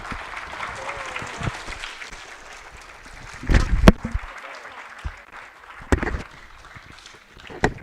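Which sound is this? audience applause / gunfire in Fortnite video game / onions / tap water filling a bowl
audience applause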